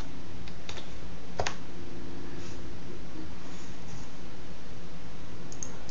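Computer keyboard keys typed while entering a username into software, a soft irregular run of clicks over a steady background hum, with no speech.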